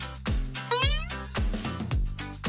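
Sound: cat meowing

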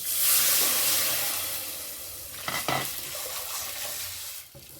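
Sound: curd batter poured into hot tempering

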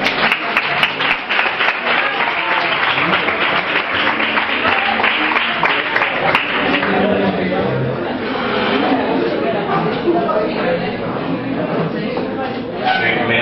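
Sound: audience applause at a concert

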